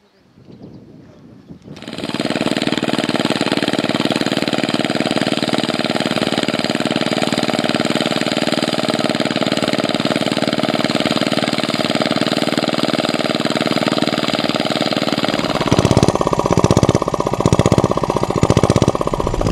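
A water pump motor engine at an Ethiopian farm plot kicks in after about two seconds and runs as a loud, steady, close drone, with rhythmic thumping pulses toward the end.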